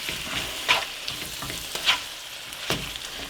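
Olives stirred into pasta puttanesca sauce in a hot pan: a continuous close sizzle with three distinct spoon scrapes and clacks at irregular intervals, no talking.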